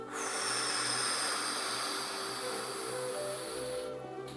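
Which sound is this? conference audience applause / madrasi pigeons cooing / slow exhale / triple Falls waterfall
slow exhale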